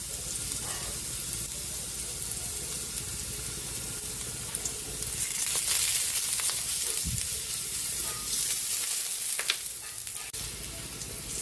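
Garlic sautéing in a little cooking oil in a pan for miswa soup, a steady close sizzle with occasional stirring scrapes, no talking.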